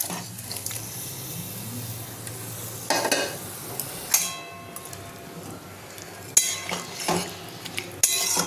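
Fried katla fish pieces go into a Bengali curry of ridge gourd and potato and are stirred in a pan. A soft simmering sizzle sits under scraping strokes and sharp clinks of a utensil against metal.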